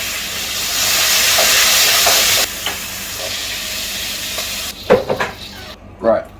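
Meat browning in hot oil in a home kitchen pan gives a loud, steady sizzle and hiss for the first few seconds, easing to a quieter frying crackle, with a few clatters and handling knocks near the end.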